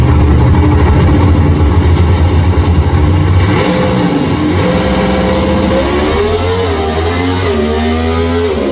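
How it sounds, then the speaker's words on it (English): A super modified drag racing car at an NHRA Gainesville event accelerates hard, its loud engine note climbing and dropping quickly through first, second and third gear, close and continuous for the whole stretch. "Listen to how quick it goes through the gearbox."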